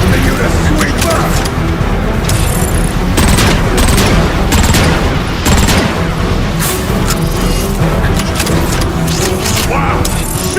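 Video game gunfire in Transformers: Fall of Cybertron: sharp repeated bursts and booming impacts keep up steadily over a loud, dense battle mix, with game voices talking underneath.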